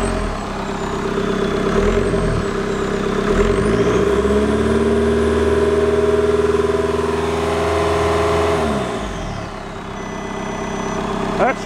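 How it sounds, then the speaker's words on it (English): A VW TDI CJAA diesel engine, out of the car on a shop floor with no coolant, runs steadily with a low harmonic drone and revs up in one long rise and fall near the middle before settling back to idle. "Here's the throttle pedal. Let's see if she's gonna rev."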